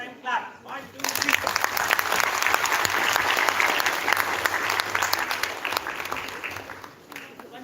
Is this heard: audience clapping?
yes